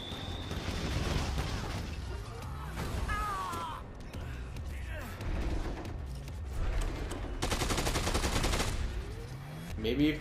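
Gunfire in the zombie game Dead Rising 2: Off The Record, with bursts of shots and rapid fire mixed into busy game noise and shouting voices.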